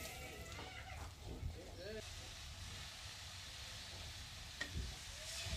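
Garam masala spice paste frying in a pan for a chicken curry, a soft steady sizzle with occasional stirring scrapes, fairly quiet and continuous throughout.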